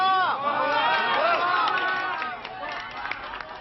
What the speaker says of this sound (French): le président en profite pour faire durer le bain de foule, un plaisir visiblement partagé